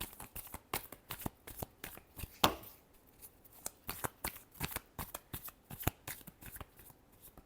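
Tarot cards are shuffled close up in a quick, steady run of sharp riffling slaps and flutters, repeating about twice per second, with no talk.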